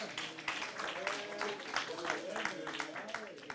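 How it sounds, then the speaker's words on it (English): Audience at a youth session of the Global Landscapes Forum applauds the land restoration team, steady moderately distant clapping throughout with a faint voice beneath. "let's give the land restoration team a huge round of applause"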